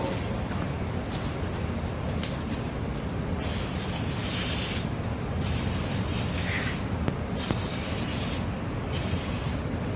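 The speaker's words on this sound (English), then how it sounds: "this time I'm gonna use some chain lube on the chain" Chain lube sprays in short hissing bursts onto the chain of an Ariens ST824 two-stage snow blower, close and steady, with brief pauses between squirts.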